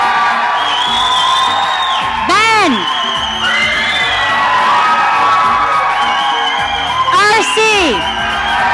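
Loud crowd cheering and whooping at a photography event shootout, a sustained roar of voices with two sharp shouted peaks as individual names are yelled out.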